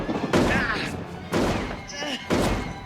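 Film gunshots ring out in a Leprechaun horror movie, three loud separate blasts spaced about a second apart, with spoken dialogue running between and over them.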